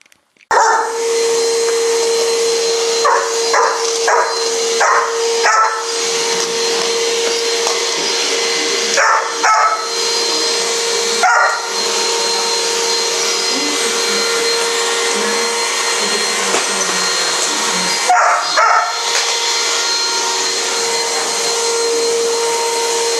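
A vacuum cleaner drones loudly and steadily throughout, while a dog close by barks in short bursts at it, several times early on and again near the middle and end.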